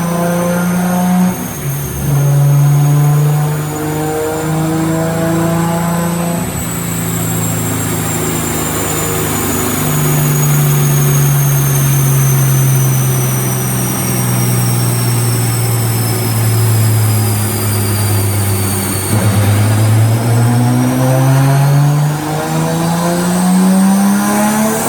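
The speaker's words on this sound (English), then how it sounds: "But for now, enjoy this most recent dyno run." A Toyota Supra with a fully built 3.4 stroker engine is run hard on a dynamometer, its loud exhaust roar climbing steadily in pitch through long pulls, with a brief dip and rev drop near the middle before rising again.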